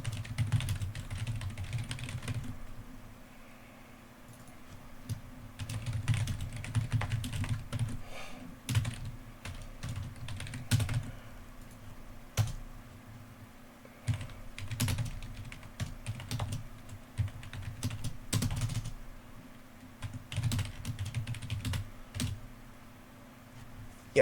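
Continuous typing on a computer keyboard while writing code, steady bursts of clicky keystrokes with brief pauses, close and moderately quiet over a low background hum.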